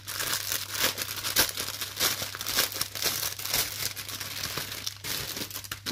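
Steady, close crinkling and tearing of plastic wrapping as a package is pulled open during an unboxing, continuous and fairly loud with no talk over it.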